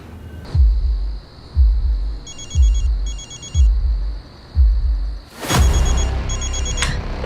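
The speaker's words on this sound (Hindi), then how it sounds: "फोन आ रहा है" Telephone ringing with an incoming call, a close, regular electronic ring repeating about six times in even bursts, each with a low thump, and a brief burst of noise near the end.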